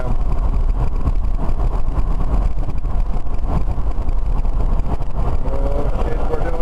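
A BMW electric vehicle conversion car drives fast at around 70, giving a loud steady rush of road and wind noise with a faint whine, and people talk over it.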